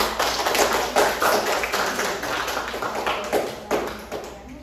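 A small group in a classroom claps for a classmate, a brisk patter of many hands that holds for a few seconds, then thins and fades out.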